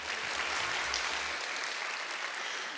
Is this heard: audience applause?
yes